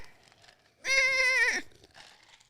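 A single goat bleat used as a sound effect in a jingle, one loud, wavering bleat lasting under a second, standing out clearly against faint background voices.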